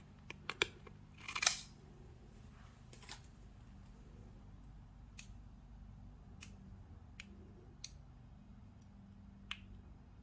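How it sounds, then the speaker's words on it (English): Scissors snip through heat-transfer vinyl for a DIY diabetes awareness sweatshirt, giving a few sharp, close clicks and a brief crinkly rustle early on, then sparse faint snips over a low steady hum. "This I can cut it even smaller."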